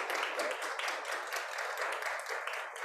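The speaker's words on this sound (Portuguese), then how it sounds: "já peço uma salva de palmas para ele" An audience at a cultural talk claps in a dense, even round of applause that holds steady for a few seconds, moderately quiet and without voices over it.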